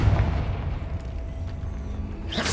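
Confringo, a fire spell in the video game Hogwarts Legacy, lands as a deep booming blast that rumbles and fades, followed by a sharp bright burst at the very end.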